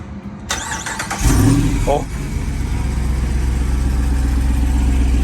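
A Jeep Rubicon pace vehicle's engine cranks and catches, then settles into a rising, rumbling run as people talk over it nearby.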